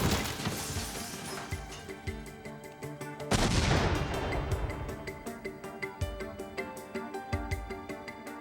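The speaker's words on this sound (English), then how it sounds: "In an instant, the pipe bursts, sending razor-sharp fragments of steel and nails in all directions at deadly speed." A homemade pipe bomb bursts in one sudden loud blast that hurls steel and nail fragments, ringing out over a dramatic music score and fading slowly.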